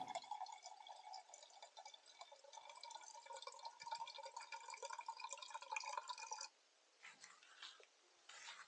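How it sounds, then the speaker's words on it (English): A drip coffee maker brews, its gurgling, sputtering drips and bubbling running continuously and close up, then cutting off sharply toward the end, leaving only a few softer gurgles. "coffee from the drip coffee maker"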